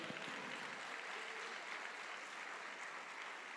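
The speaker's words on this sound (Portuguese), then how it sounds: "Você pode adorar ao Senhor com as palmas dessa noite?" A church congregation claps in worship during an evening service, a steady wash of hand clapping held at an even level throughout, fairly soft and spread out like a room full of people.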